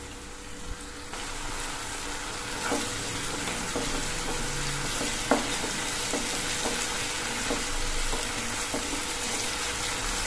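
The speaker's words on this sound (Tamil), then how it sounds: "அடுத்தது காப்சிகம் சேர்த்து நல்லா வதக்கிக்கணும்." Capsicum sautéing in a pan for chilli idli, a steady hissing sizzle with occasional light spatula taps and scrapes, fairly even and close, no speech.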